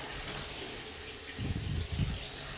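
Water runs from a newly installed kitchen faucet in an 1880s farmhouse kitchen, a steady hissing flow with a fuller gush swelling in the last second, fairly loud and close.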